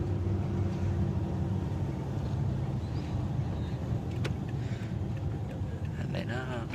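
A motorbike rides through the town of Huay Xai, its engine drone blended into a steady, heavy roar of wind buffeting the microphone. The noise stays constant and close for the whole ride, with no talking.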